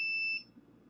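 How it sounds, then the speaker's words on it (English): An unidentified electronic device gives a single short, clear high-pitched beep that stops abruptly, followed by quiet room noise. "Beep, beep. I don't know what beeps sometimes"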